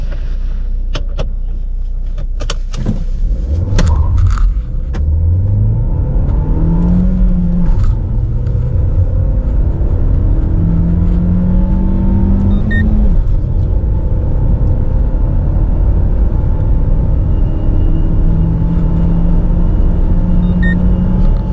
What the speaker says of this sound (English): So now let's do 0 to 100 acceleration. Let's see how fast the car goes from 0 to 100.